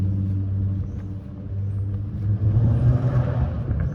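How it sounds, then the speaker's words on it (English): A car with a loud muffler passes along Scarlett Road in York, Toronto, a low engine rumble dipping and then swelling louder as it goes by, heard outdoors from the roadside with no talking. "this car has a really loud muffler."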